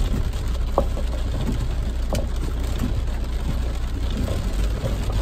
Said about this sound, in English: The rain is very, very heavy.